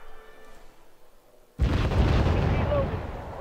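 Artillery from the Wargame Red Dragon game fires with a sudden heavy boom after a quiet stretch, then a loud sustained rumble rolls on to the end, with voices heard faintly before the blast.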